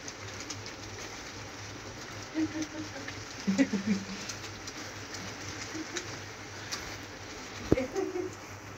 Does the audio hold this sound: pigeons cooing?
yes